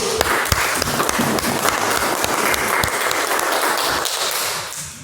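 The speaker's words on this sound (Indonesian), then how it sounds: "Tepuk tangan dulu." A classroom of students applauding, steady, loud clapping from many hands that holds for about four seconds, then fades at the end.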